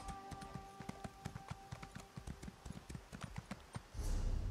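Horse hooves clip-clop at a steady gallop in The Elder Scrolls Online, a rapid close rhythm of thuds lasting several seconds before a louder rushing burst at the end.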